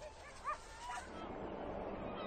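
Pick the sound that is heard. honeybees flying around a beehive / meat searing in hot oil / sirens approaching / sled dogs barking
sled dogs barking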